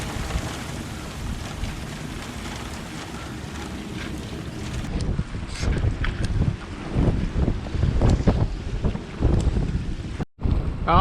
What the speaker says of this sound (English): hopefully this wind will drop off